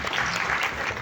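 Audience applause at a film press conference and cast reveal, a dense, steady wash of many hands clapping at full volume with no break, no voices standing out.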